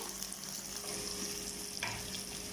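Small onions sautéing in a pan for a Tamil-style fish curry, a steady soft frying sizzle with light stirring, fairly quiet and continuous, no talking.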